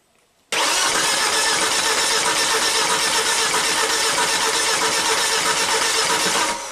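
A Volvo XC70 with a no-start fault cranks over continuously for about six seconds after a sudden start, a loud, even, close mechanical churn with no catch.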